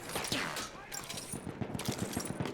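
Rapid bursts of automatic fire from an M1907 submachine gun in the Battlefield 1 video game, closely spaced shots repeating steadily with someone talking over them.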